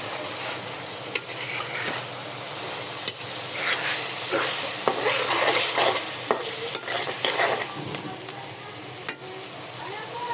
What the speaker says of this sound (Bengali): তো আমি এখন টমেটোগুলো আর একটু কষাবো।